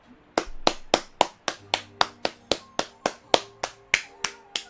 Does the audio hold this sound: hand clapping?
yes